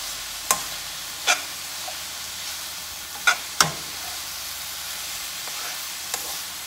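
A pound of breakfast sausage sizzles steadily in a pan, a constant hiss punctuated by several sharp scrapes and clacks of a utensil stirring it, close and fairly loud, with no talking.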